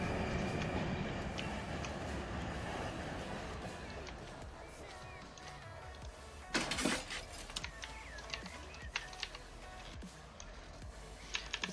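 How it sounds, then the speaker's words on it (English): Freight train in the Run8 train simulator game, a steady low rumble of rolling railcars with brief clanks and hisses near the middle, while keyboard typing and a voice run throughout. "Let's go ahead and park this train officially."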